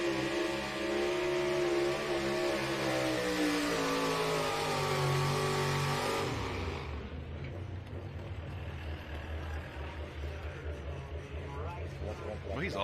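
A loud, roaring two-wheel-drive tractor-pulling truck at an NTPA pulling event in Rockwell, Iowa revs hard with a shifting pitch, then drops into a lower, rumbling drone as the pull continues nearby.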